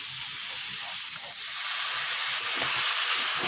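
Water hits a hot pan holding fried soybean chunks and potatoes, a loud unbroken steamy hiss that jumps up partway through and holds steady, with no talking.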